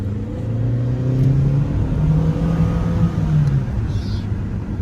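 A 2014 Chevy Cruze with a 1.4 turbo engine and worn front tyres pulls up a hill, its engine droning steadily as it strains under load from inside the cabin, with no voices.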